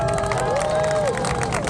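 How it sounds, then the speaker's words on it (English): A street-show crowd cheers and claps after a magic trick, a short loud burst of mixed voices and whoops with applause underneath. "To a thunderous round of applause,"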